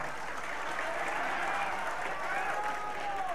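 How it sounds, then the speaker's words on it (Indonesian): An audience claps together at a talk show, a steady, even round of applause that holds at full strength throughout with no talk over it. "Boleh tepuk tangan buat kita semua."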